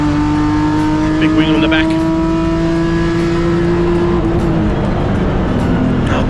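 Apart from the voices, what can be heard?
BMW E36 325i race car engine accelerating past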